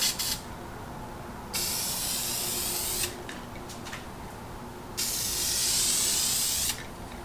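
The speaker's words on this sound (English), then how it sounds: "let's hit it with a little bit of black to get that nice pinstripe" Black spray paint hisses from an aerosol can onto a motorcycle fuel tank in several bursts of loud, close, steady spraying separated by short pauses.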